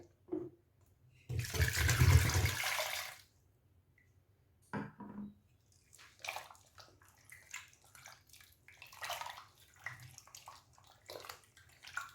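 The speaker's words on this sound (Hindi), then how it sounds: "एक बार हम इसको क्लीन अभी और करेंगे ठंडा पानी डाल के।" Cold water splashes and pours into a pot over freshly separated butter in a home kitchen, a loud burst followed by intermittent sloshing and handling noises.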